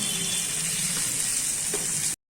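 Food frying in mustard oil in a pan, a dense, even sizzle heard close up and loud for about two seconds, with no talking.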